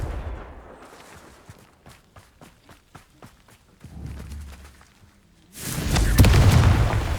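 Confringo blasting spells in the Hogwarts Legacy video game land as a string of sharp, rapid impacts, followed by a low thump and then a loud, broad explosive roar that swells and holds at the end.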